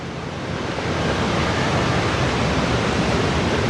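Strong wind gusting by the sea at a mangrove on Boracay, a loud continuous broadband roar with surf-like rushing, steady and close with no speech.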